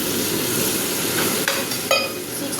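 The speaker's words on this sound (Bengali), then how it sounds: "এবার আমি জল দিয়ে দেবো, অল্প করে জল দিয়ে দিচ্ছি।" A little water hits a hot frying pan of tomato, potato and poppy-seed curry, raising a steady, loud sizzle that hisses on evenly with a couple of faint clinks near the end.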